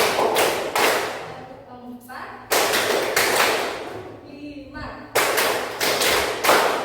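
A group claps hands in counted rhythm on a teacher's instruction, with several sharp bursts of claps separated by pauses and a voice speaking between them.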